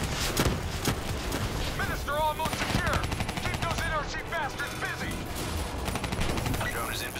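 Rapid automatic gunfire and bursts of fusillade fill a Black Ops III firefight, continuous and loud with sharp repeated cracks, layered under voices talking throughout.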